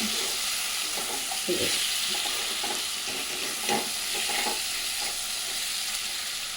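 Boiled irakaya (curry vegetable pieces) being stirred slowly in a pan of curry, producing a steady soft sizzle with gentle scraping strokes of the spoon, close by and without talk.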